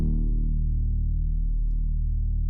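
Heavy sustained synth bass from the Spectrasonics Trillion plugin plays alone as a deep, loud, droning tone that fills the whole stretch without a break.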